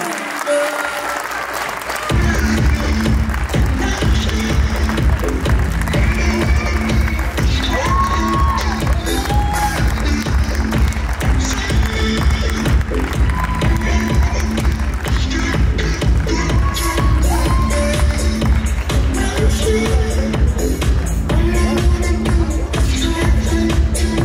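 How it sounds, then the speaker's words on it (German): Audience at the international Bavarian bodybuilding championship, men's physique masters class, breaking into loud sustained applause and cheering after a brief quiet moment, with shouts and whistles over dense clapping. "Euer Applaus."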